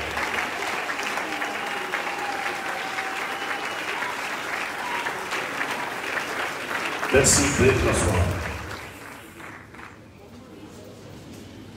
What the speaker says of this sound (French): Aidez-moi à saluer la mémoire de cet héros de la foi, ce champion de la foi.